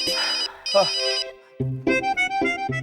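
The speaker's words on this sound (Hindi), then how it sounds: "मेरे क्लाइंट का फोन होगा, मुझे फोन उठाने दो" A phone ringtone plays a bright, repeating electronic melody up close, looping in quick musical phrases.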